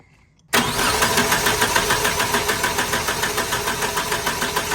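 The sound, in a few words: engine cranking during compression test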